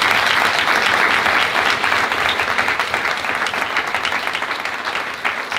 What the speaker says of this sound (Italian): Questo è un applauso spontaneo proprio